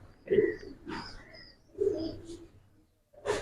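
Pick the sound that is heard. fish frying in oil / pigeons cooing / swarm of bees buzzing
pigeons cooing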